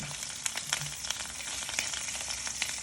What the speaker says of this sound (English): we're just kind of pan frying this off right here, right now